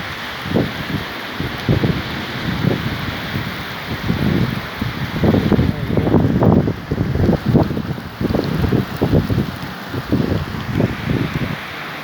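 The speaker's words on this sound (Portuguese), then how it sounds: "Uma chuva abençoada." Rain falls steadily outdoors in Juína, a soft continuous hiss broken by rumbling gusts of wind buffeting the microphone, with no voices present.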